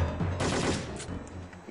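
Gunfire in the Syphon Filter 3 video game, a dense burst of shots in quick succession that tapers off into scattered fainter cracks.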